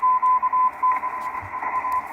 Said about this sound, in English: Oh, 6 megahertz Morse code.